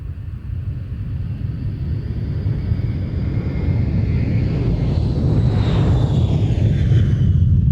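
EC-135H aircraft at an air show, a steady loud jet roar that builds over several seconds as it passes, with a rising whine near the end.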